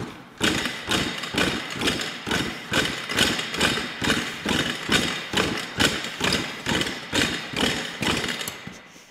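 Yamaha PW80 dirt bike engine running unevenly in a loud, close, steady rhythm of heavy thumping pulses, about two per second, with no talk over it.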